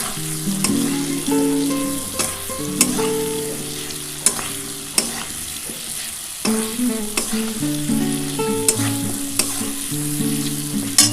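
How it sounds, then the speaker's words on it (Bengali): Turmeric fries in hot oil in a pan for a vegetarian cauliflower curry, giving a close, steady sizzle with sharp stirring clicks throughout and no talking. "দিয়ে এবার ভালো করে একটু ভাজা ভাজা করতে হবে"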